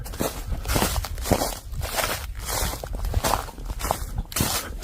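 Footsteps crunch steadily through a forest at night, each step landing on leaf litter and twigs at close range in a regular walking rhythm with no talk.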